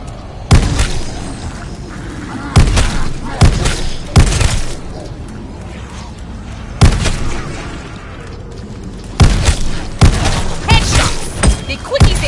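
Gunfire against zombies in the Call of Duty Zombies map Terra Maledicta, with repeated loud bursts of shots and booms spaced through the scene over continuous game noise.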